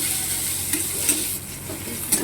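Garlic sizzling in hot oil while being stirred, a steady close crackle punctuated by a few sharp utensil scrapes against the pan.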